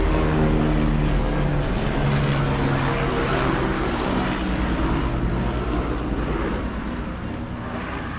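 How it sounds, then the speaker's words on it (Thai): A helicopter engine drones loudly and steadily overhead outside an apartment building, its low throbbing hum slowly easing as it moves away. "เฮลิคอปเตอร์บินผ่านค่ะ"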